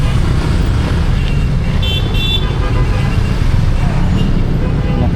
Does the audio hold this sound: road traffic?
yes